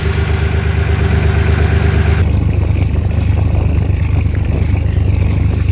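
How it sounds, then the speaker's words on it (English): An old boat's three-cylinder Nuffield diesel, a tractor-type engine, runs steadily close by while pumping water out, a loud, even low rumble with a harmonic whine that drops away partway through. "She's pumping water out now. She's a 3-pot Nuffield, like an old tractor engine."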